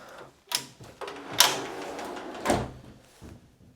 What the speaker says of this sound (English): And then we have this pocket door